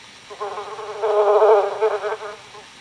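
A bee's drowsy, resting buzz while settled on a leaf, heard alone as a soft drone that swells in the middle and then fades, close and fairly quiet.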